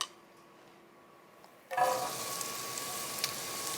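Diced onions dropped into hot canola oil in a pan, a quiet room suddenly broken by a loud, close, sustained sizzle that keeps hissing steadily, with no one speaking.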